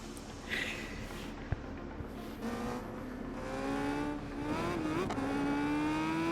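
A motorcycle engine in the RIDE 5 racing game, a Team Hammer Suzuki bike, revs and climbs through rising tones with a few shifts, close and steady, with brief tire and road noise and no talk.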